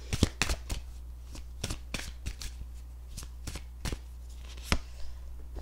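Tarot cards being shuffled, a series of crisp riffling snaps at an uneven rhythm, close and moderately loud, no talking.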